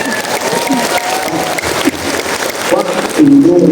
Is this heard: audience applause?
yes